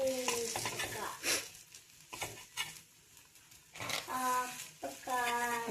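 An egg dish cooking in a pan on the stove, with soft sizzling and occasional stirring and scraping against the pan, interrupted by a person talking.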